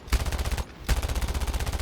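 Vickers E machine gun on a Swordfish Mk I in War Thunder fires two rapid, evenly paced bursts split by a short pause, the chattering rounds loud and close with no talk.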